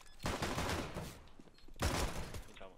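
Gunfire in the shooter CS:GO, two dense bursts of rapid close shots separated by a brief lull, loud and alone.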